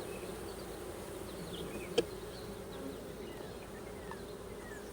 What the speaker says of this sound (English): A lot of the bees will fly back.